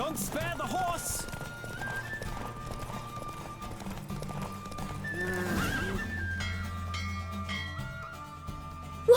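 In The Witcher 3 video game, a horse gallops with rapid clip-clopping hooves and lets out loud whinnies, set against tonal game music and voices in the background.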